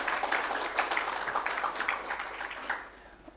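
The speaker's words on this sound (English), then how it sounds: "Another round of applause for the Deputy Governor." An audience at an economic outlook forum and report launch claps in a dense, steady patter that fades away over the final half second.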